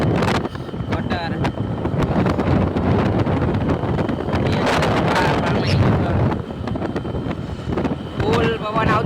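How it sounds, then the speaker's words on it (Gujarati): Strong wind buffets the microphone while riding along a village road, a loud, continuous roaring rush with gusty surges, and people talk under the noise. "ફૂલ પવન આવતો હશે"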